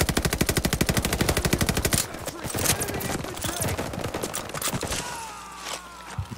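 Rapid automatic gunfire from the Call of Duty Vanguard video game, aimed at an enemy up in a tree. A loud, steady burst of shots opens the clip, followed by scattered game noise and some talking.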